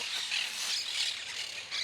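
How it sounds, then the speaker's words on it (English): Shrill, high squawks and chirps of parrots in a video game overlap continuously, bright and busy, like a flock of birds calling nonstop with no talking. "God, these parrots are so annoying."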